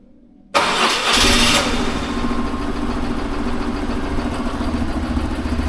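A BMW R1100GS motorcycle engine with a newly replaced starter cranks and catches abruptly after a moment of quiet, then settles into a steady, loud, close idle.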